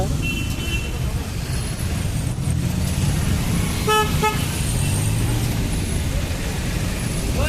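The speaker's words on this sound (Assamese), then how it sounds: "এইটো আমাৰ অনুৰাধা ৰেল গেট এতিয়া আপুনি যেতিয়াই নহওক কিয় ট্ৰাফিকটো নিশ্চয় পাব" Busy road traffic stopped at a railway gate crossing in Assam, with a steady engine rumble and a brief double car horn toot near the middle, fairly loud and close throughout.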